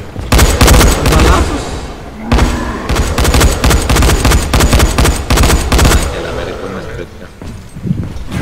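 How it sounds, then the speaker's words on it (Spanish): Rapid bursts of gunfire from the video game Dying Light, loud and close, firing in dense volleys with short pauses, then thinning toward the end, while players shout excitedly over it. "¡Se escuchan balazos!"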